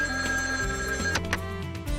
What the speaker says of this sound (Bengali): এই ফোনটা এসপি সাহেবের ফোন।